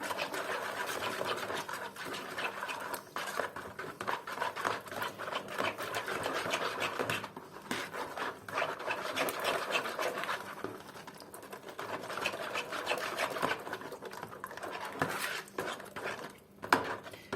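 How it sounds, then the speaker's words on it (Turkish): Liquid baklava dough ingredients with two tablespoons of vinegar and baking powder are whisked together in a bowl, a steady, busy rhythmic scraping and whirring that runs continuously and fairly close, with no talk. "Önce bu sıvı malzemelerini şöyle bir karıştıracağım."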